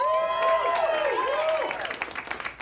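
An audience claps and cheers briefly, a burst of applause from a crowd that fades out over a few seconds beneath a musical tone, with a voice beginning to speak.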